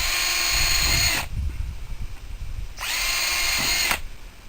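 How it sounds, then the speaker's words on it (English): A power drill boring holes into a bucket for drainage: two loud high-pitched whirring bursts of about a second each, separated by a quieter pause of rustling. "take a drill and drill you some holes in it"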